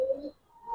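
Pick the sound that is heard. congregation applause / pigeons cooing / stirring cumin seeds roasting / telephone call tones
pigeons cooing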